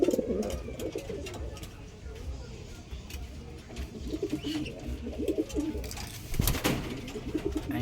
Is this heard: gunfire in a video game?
no